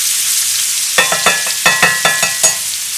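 Pork tenderloin fries in a fatty layer of oil in a pan, a steady broadband sizzle running throughout with a series of sharp scraping stirs and clatters punctuating it at close range.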